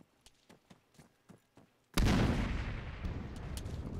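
A grenade explodes in Arma 3 after a few faint quiet clicks and footsteps, a sudden loud close blast followed by a long rumbling decay with scattered debris.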